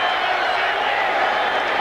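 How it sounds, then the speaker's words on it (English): A loud, dense roar of a football stadium crowd cheering at Texas Stadium during a Raiders–Cowboys game, filling the whole clip steadily without a break. "Never heard a crowd like this in Texas Stadium."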